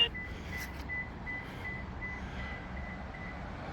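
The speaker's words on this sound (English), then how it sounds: "the car beeped a whole bunch of times" A car, paired with a new digital smart key, beeps repeatedly, a series of thin, evenly spaced tones heard faintly over low background hum.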